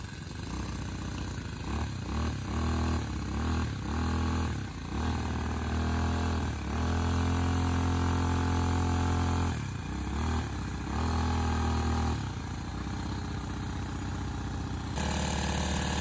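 A homemade farm machine's small engine runs and chugs steadily as the rig creeps slowly forward, a loud, close, continuous rattling drone with occasional shifts in pitch and no talk.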